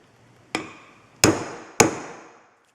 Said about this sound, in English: Now you use your hammer.